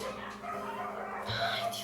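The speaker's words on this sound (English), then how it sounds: "the dogs outside are so noisy and it makes me really nervous" Dogs bark outdoors in the distance, a few muffled yelps and barks heard faintly through a room over low background noise.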